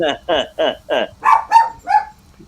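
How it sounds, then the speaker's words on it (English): A female dog barks in a run of seven loud, close barks, the first four quick and evenly spaced and the later ones higher and more drawn out, as she looks through a window at another dog outside. "looking out and barking at her brother who's outside"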